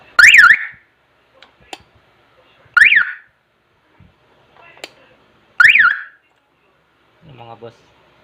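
A car anti-theft alarm sounds in three loud, sharp warbling chirps spaced a few seconds apart, with faint clicks and brief soft noises between them.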